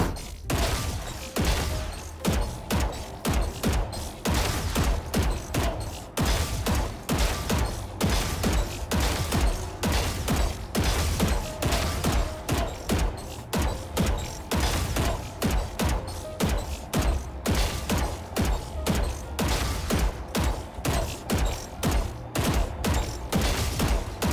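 Aim training in Valorant: single gunshots fired at a post, then at bots, cracking out in a steady series of sharp, loud, closely spaced shots over about twenty seconds, with no talking.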